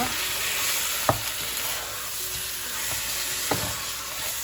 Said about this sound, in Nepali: अब यसलाई राम्रोसँगले चलाएर एकछिन पकाउनुपर्छ।